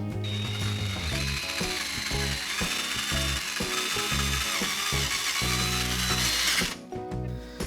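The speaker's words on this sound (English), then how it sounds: "So this is a new wire brush for my drill, and it's really stiff compared to this wire brush." A power drill whirs steadily with a stiff wire brush scraping and grinding against charred wood, a loud, continuous mechanical buzz that cuts off near the end.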